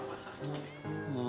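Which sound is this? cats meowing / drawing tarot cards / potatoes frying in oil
cats meowing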